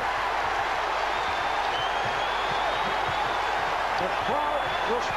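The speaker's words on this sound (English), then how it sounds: "The crowd responding to the Kemba Mutombo" A basketball arena crowd at an NBA Finals game roars after a Mutombo block, a dense, steady wash of cheering under a courtside commentator's voice.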